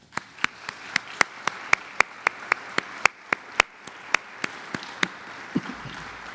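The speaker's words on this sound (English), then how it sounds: "please join with me in a deserved round of applause for our faculty and staff" Applause at a school honors day ceremony for faculty and staff: sharp, evenly spaced claps at a steady quick rhythm over a faint room murmur, fading out near the end.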